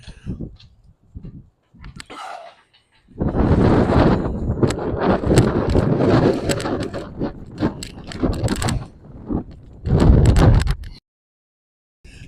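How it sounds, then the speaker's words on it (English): Gusty wind buffets an outdoor microphone on a town walk, with loud roaring bursts that rise and drop in uneven surges, separated by brief calmer gaps. "It is gusty today."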